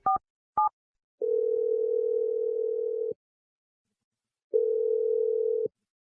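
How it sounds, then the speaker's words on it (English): Two quick beeps are followed by a steady telephone ringback tone when calling a radio-show listener, two long sustained tones separated by a pause, loud and clean. "I'm going to dial Ian."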